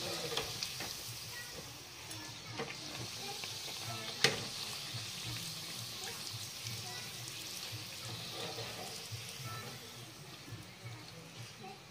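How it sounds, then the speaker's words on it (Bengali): Puris deep-frying in hot oil give a steady, low-level sizzle and bubbling with occasional soft clinks, and a voice speaks faintly now and then. "এরকম ভাবে সব পুরিগুলা ভেজে নিই।"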